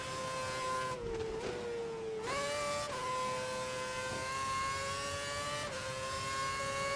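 An F1 car's engine in the F1 2011 racing game screams at high revs during a lap of the Malaysia circuit, pitch dipping briefly on a downshift around a corner before climbing steadily again, loud and continuous.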